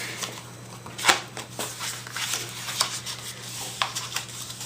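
Soft papery rubbing and creasing as scored cardstock panels of a double gate fold card are folded inward, several light scuffs and taps close by over a low steady hum.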